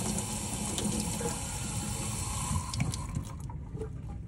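A paint brush is rinsed under a running tap, a steady close stream splashing into a sink that softens near the end as the flow changes, with no talk.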